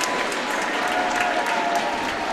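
A crowd applauds at a men's college volleyball game in a gym, a steady, dense wash of clapping that holds at an even level throughout.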